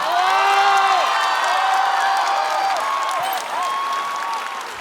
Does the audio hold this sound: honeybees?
no